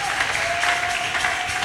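A church congregation at a French-language service applauds after the reading of the word of God. The clapping is steady and dense, a crowd in a reverberant hall, with a faint held tone under it.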